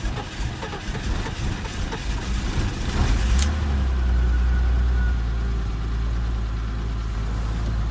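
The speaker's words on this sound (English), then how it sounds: "it's not the smoothest idle, but it's doing a lot better than what it normally does" A BMW E30 engine idles roughly after a cracked intake boot is replaced, a steady low rumble with slight unevenness that swells a little partway through and then holds at a constant level, with no talking.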